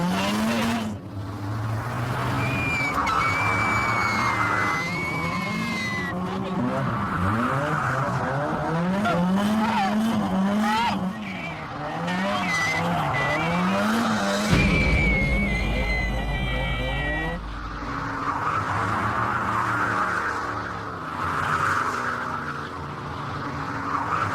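Drift car driven hard by a driving student on a practice course: close, loud tire squeals rise and fall in long wavering sweeps over a revving engine, with a heavy low-end burst midway and a brief voice nearby.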